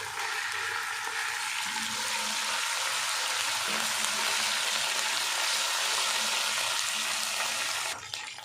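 Steady, close sizzling of ginger and garlic paste frying in a pan with sautéed onions for aloo gobhi, a continuous bright crackle, alone without talk.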